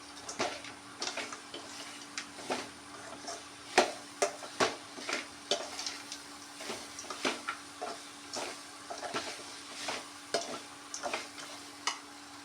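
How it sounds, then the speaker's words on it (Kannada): Fried dry gobi (cauliflower) is stirred in a pan, with repeated sharp scraping clicks in an irregular rhythm over a soft sizzle, close and fairly quiet, with no talk. "ಈಗ ನಾವು ಇಲ್ಲಿ ಡ್ರೈ ಮಾಡ್ಕೊಂಡ ಗೋಬಿಯನ್ನು ಹಾಕೊಳ್ಳೋಣ. ಕರೆಕ್ಟಾಗಿ ಮಿಕ್ಸ್ ಮಾಡ್ಕೊಳ್ಳೋಣ."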